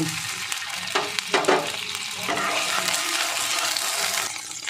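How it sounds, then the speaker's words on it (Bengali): Asafoetida soaked in water hits hot ghee and oil with a few sharp bursts of spitting sizzle and stirring knocks, then settles into a steady frying hiss, close and clear, no talking. "এবার আমি এই যে জলে হিং ভিজিয়ে রেখেছিলাম, 1 চামচের 4 ভাগের 1 ভাগ দিয়ে দেব"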